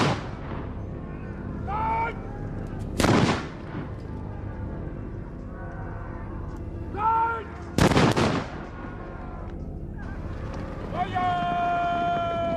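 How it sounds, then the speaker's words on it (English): Musket fire in a samurai-era battle at Nagashino Castle, two loud close booming shots several seconds apart, with someone speaking over a rumbling background of battle sounds. "In 1575 at Nagashino Castle, the Takeda clan for the first time braved musket fire."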